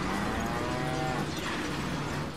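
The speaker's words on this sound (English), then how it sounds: "What? A cow?" A cow moos in the Deadpool video game, a single drawn-out bovine call heard clearly over steady game background noise for a couple of seconds.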